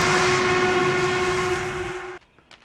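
A loud train rumbles past with a steady, sustained horn blaring over it, then the sound cuts off abruptly, leaving faint noises.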